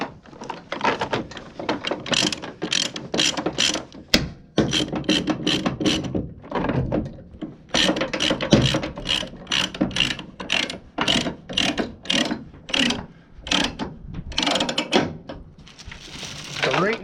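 A ratchet chain binder is cranked tight on a steel coil load aboard a Peterbilt 389's trailer, its pawl clicking in rapid repeated bursts of close, loud ratcheting with short pauses between strokes.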